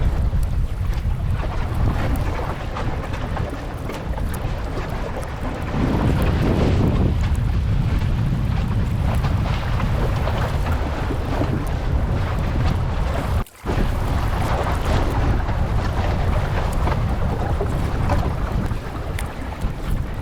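A sailboat under way in wind, with steady loud wind buffeting the microphone and water rushing along the hull, continuous and close with one brief dropout, no voices.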